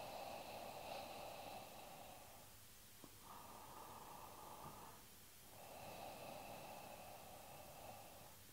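Slow ujjayi pranayama breathing through a constricted throat, a close, steady oceanic hiss on long inhales and exhales, alternating in three sustained breaths with brief quiet gaps between them.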